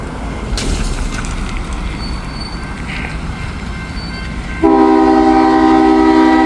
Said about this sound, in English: Here comes B661 that we've talked about before, that loaded ethanol train, with the Canadian Power up front.